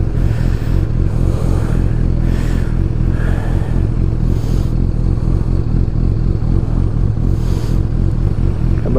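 Motorcycle engine running steadily and loudly throughout, with dense low rumble, clattery mechanical texture and occasional brief surges, no speech, on a ride that includes a stop to refuel.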